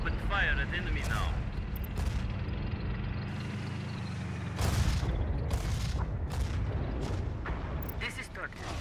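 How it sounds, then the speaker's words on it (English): Gunfire and artillery in a video game battle with helicopter gunships: heavy booms and rolling blasts over a continuous low rumble, with sharp bursts recurring throughout and radio-style voices occasionally talking over the combat. "We open fire at enemy now."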